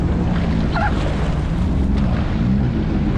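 A steady, loud jet ski engine drone on open water near Tampa, Florida, with splashing and wind buffeting throughout and no voices.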